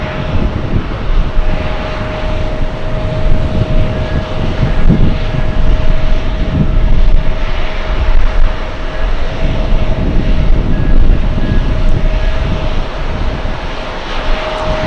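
At JFK airport, a large airliner heading to the runway for takeoff gives off a loud, steady jet engine roar with a sustained whine, heard alone from nearby.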